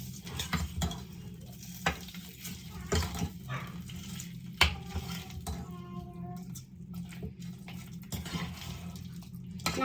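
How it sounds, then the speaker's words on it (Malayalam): A spoon scrapes and stirs a thick jackfruit erissery with spice mix in a pan, with soft irregular scraping, a few sharp clinks and a faint background hum. "മിക്സ് ചെയ്ത് കൊടുക്കാം."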